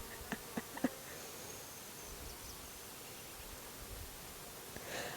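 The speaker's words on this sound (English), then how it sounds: "Bunch of bees just got angry." Angry honeybees buzz around a struggling beehive, a faint, steady drone with a few soft knocks near the start.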